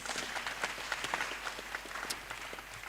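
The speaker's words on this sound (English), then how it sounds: "A round of applause for that, please." Applause rises from the crowd at a university convocation ceremony, a fairly quiet, steady patter of many hands with a few sharper individual claps standing out.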